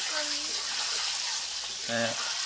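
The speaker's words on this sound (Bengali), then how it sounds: "হালকা করে ডিম আমরা ভেজে নেবো" Eggs fry lightly in a pan at an afternoon village picnic, giving a soft steady sizzle throughout, with brief voice sounds near the start and again near the end.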